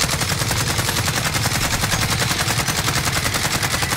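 Rapid automatic gunfire in a video game rattles out in a dense, evenly spaced stream of loud close shots that continues without pause.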